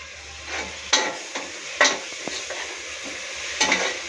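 Tomatoes sauté in a pan for a chicken bhuna masala, giving a steady close sizzle broken by a few sharp scraping stirs of a spoon against the pan.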